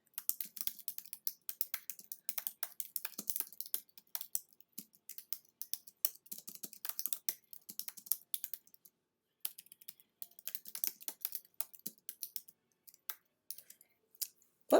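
Rapid typing on a computer keyboard while an email message is composed, with dense, irregular bursts of key clicks running steadily throughout and a few brief pauses, close and fairly quiet with no talk.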